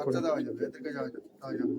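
Giribaj pigeons coo in low, throaty bursts close by, with a voice talking over and among the calls.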